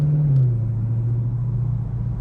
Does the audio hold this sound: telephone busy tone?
no